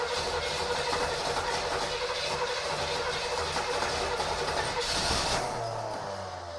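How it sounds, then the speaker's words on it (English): Starter motor cranking the 455 V8 of a 1971 Buick LeSabre Custom sedan with a worn starter, a dense, loud, continuous grinding churn lasting several seconds before easing off near the end. "That starter sounds like crap."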